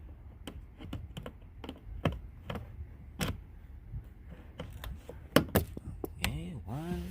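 Plastic tail light clips on a 2009-15 Nissan Maxima being pried loose by hand, a run of sharp close clicks and snaps at irregular intervals, with a few faint creaks of trim between them.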